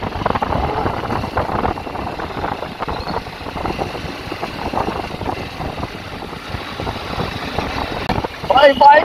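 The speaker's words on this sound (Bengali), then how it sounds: "ভাই বাইক নিয়ে আমরা BMW চালাচ্ছি।" A BMW G310RR motorcycle engine runs steadily on a test ride, a continuous mid-pitched drone with a brief louder burst near the end.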